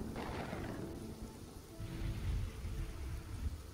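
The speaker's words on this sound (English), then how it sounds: "Sorry about the rain, guys." Steady rain hisses with low rumbling thunder rolling underneath, building and swelling partway through, in the video game Kingdoms and Castles.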